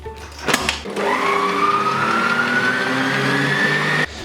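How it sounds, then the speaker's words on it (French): A stand mixer whips egg whites for a lemon meringue tart, its motor starting after a brief clatter and then running loud and steady with a rising whine before cutting off abruptly. "utilisez votre magnifique robot mixeur comme le mien avec les blancs d'œufs à l'intérieur et vous les montez simplement en neige"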